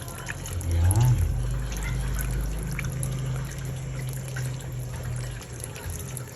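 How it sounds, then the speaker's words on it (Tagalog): Milk is poured into a simmering pot of Filipino sopas soup on a medium flame, a soft, close liquid trickle and gurgle over low kitchen hum, strongest near the start and fading into quieter bubbling. "lagyan na natin siya ng gatas"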